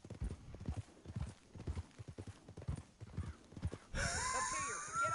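A horse in the video game Red Dead Redemption 2 clip-clops along in a steady rhythm of close hoof thuds, then gives a whinny over a louder rush of sound near the end.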